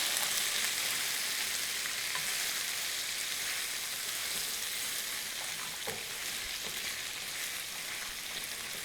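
Sauce and vegetables fry over high heat in a pan, a steady loud sizzle and crackle that continues throughout, with an occasional faint clink of stirring.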